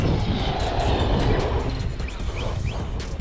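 An Arrma Kraton 4S V2 RC car's electric motor whines at full throttle, a steady loud high-pitched rush that fades slightly as it moves off.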